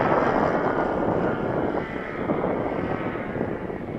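A Fokker Triplane flies overhead, its engine a steady broadband drone with wind rumble that stays loud throughout and eases slightly midway.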